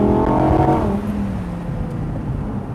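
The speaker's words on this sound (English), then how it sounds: "we can hear some exhaust now." Engine exhaust from a 2020 Audi R8 V10 Performance Spyder, a loud revving roar that swells and then settles into a steady rumble.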